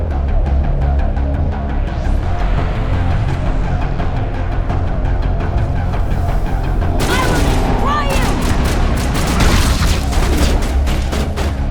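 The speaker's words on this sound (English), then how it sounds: "These grenades are actually pretty effective" Grenade explosions in Mass Effect Legendary Edition combat: heavy, loud booming blasts burst out amid rattling gunfire, with a dense cluster of detonations toward the end and voices mixed into the battle noise.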